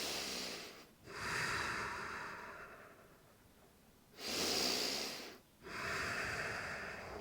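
Slow, deep yoga breathing: long airy inhales and exhales through the nose and mouth, close and clear, about four breaths in an even rhythm with brief pauses between.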